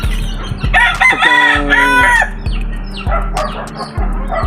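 A rooster crows loudly over a steady, throbbing background hum, with scattered clucks and chirps from nearby chickens.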